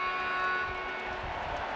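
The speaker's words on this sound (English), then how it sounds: "There's the final hooter." The final hooter at a men's rugby sevens match, Canada versus Russia in Vancouver in 2017, sounds as a steady, sustained horn tone over a low crowd murmur.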